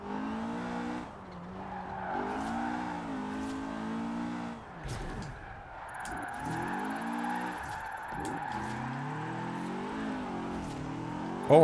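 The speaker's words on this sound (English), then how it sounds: "it sounds like a proper rally car" A Ford rally car engine in Forza Horizon 4 revs hard and high, pitch rising and dropping through gear shifts, with brief tire squeals, loud and close with no talking.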